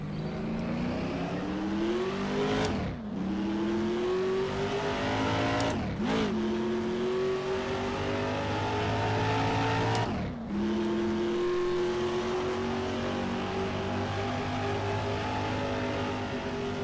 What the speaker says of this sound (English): I wasn't expecting that for the sound of this thing.